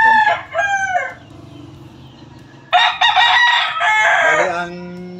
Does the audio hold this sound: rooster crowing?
yes